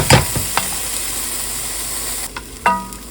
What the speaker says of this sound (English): the onions and peppers have been cooking long enough, I think.